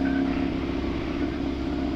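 A motorcycle engine rumbles close by as it goes past, a steady loud droning hum with a slight rise in pitch, no voices over it.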